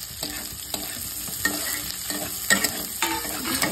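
Peas, chopped tomato, green chilli and other vegetables frying in a pan with leftover rice, a close steady sizzle broken by repeated stirring scrapes and knocks of a spatula.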